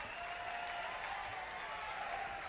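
Audience applause for a band at the Savoy in New York City in 1981: a steady, dense wash of clapping that holds at an even level throughout.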